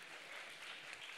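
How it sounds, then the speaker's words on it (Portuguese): Faint, steady audience applause at a business congress's ESG panel, a continuous even patter of many hands lasting about a second with no clear voices on top. "Uma salva de palmas para a EMS e a família Adams."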